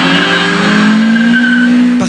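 A Peugeot 106 S16 fitted with NOS accelerates hard, its engine note rising in a loud, sustained whine that climbs steadily before a brief clunk at the end.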